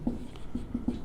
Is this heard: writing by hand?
yes